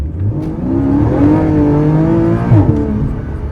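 A 2001 Porsche Boxster drives along, its engine loud and close as it revs up through rising tones, eases off, then revs again, heard from inside the car with no talking.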